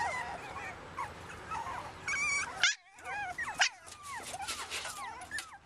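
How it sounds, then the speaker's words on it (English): Small puppies whimpering and yipping in a litter, a busy overlapping chorus of thin, high whines and squeals, close by, with brief gaps between bursts. "And then the littler ones are Ivy's puppies"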